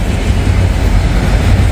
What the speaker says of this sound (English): Real short train. Didn't take long for him to get it going with that DPU on the back.